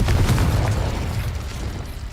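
A Confringo blast spell in the Hogwarts Legacy video game: a deep, loud booming explosion with heavy low rumble that holds steady and slowly fades over two seconds, with no talk.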